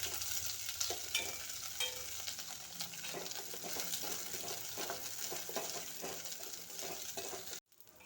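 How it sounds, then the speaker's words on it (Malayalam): Jackfruit pieces sizzle and fry steadily in ghee while being stirred in a pan, with a continuous hiss and occasional scraping clinks; no talking, ending with a brief cut to quiet. "ഇനി ഈ നെയ്ക്കകത്ത് തന്നെ നമുക്ക് ആ ചക്ക അങ്ങോട്ട് ഇട്ട് കൊടുക്കാം."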